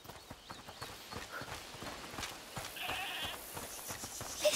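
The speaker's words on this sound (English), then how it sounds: "Is that the goat he talked about?" A goat bleats in a scene from the video game A Plague Tale Requiem, with short calls over a steady patter of hoof-like clopping and low ambient sound, and no talk.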